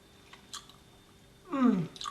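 Close, moist chewing of a homemade chocolate slab studded with apricot, cashew nut and cardamom: a few soft bites, then a louder squishy chomp near the end.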